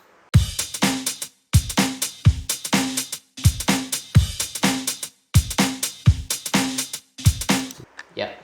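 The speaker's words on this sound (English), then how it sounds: "So the breakbeat loop sounds like this." A breakbeat drum loop from a bass house track plays alone, with punchy kicks and crisp snares and hats in a choppy, repeating pattern broken by short gaps.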